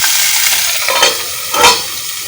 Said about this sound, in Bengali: সবজিগুলো সব লাল লাল করে একটু অল্প ভেজে নিলাম